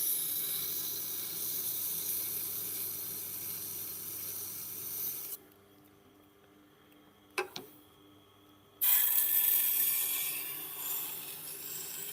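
Japanese knife sharpening, a steady gritty rasp of a blade stroked on a stone, loud and continuous, then a quiet gap with a brief clack before the grinding resumes, no speech.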